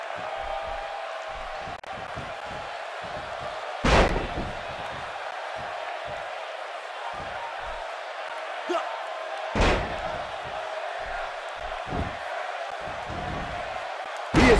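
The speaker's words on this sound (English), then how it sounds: "He slams him down with authority." Heavy body slams in a WWE 2K wrestling video game, several sharp thuds spaced apart over steady arena crowd noise, with commentators talking throughout.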